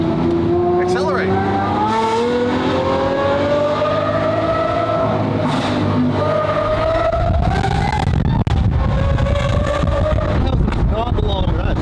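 A Lamborghini accelerating along a rutted road, its engine note climbing steadily from inside the car amid wind noise and a voice talking.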